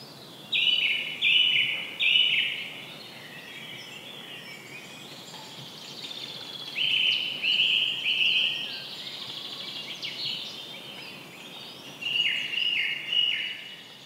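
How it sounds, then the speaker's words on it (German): Birdsong rings out in three separate bursts of bright, high chirping phrases, each lasting a second or two and separated by quieter pauses over a soft background. "Exakt, Vogelgesang."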